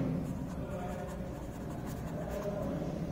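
Marker or chalk writing numbers on a classroom board during a maths lesson on tenths and hundredths, a steady soft scratching that runs for about three seconds with no talk.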